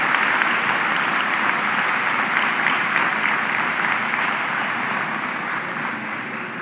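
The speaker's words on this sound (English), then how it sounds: "please give them a round of applause" Sustained audience applause at a community college commencement ceremony, honoring poll workers; steady, dense clapping from a large crowd throughout, gradually easing slightly toward the end.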